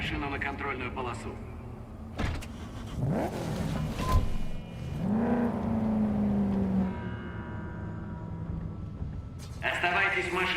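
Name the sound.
car engine driving to checkpoint in Cyberpunk 2077 video game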